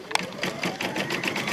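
An embroidery machine stitches a mug wrap held in its hoop, a fast, steady, close mechanical chatter of needle strokes that runs without a break.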